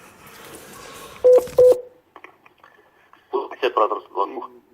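Intercom call button pressed at a police station door, giving two short loud electronic beeps, then a burst of tonal ringing and buzzing as the call connects, with a voice speaking over it.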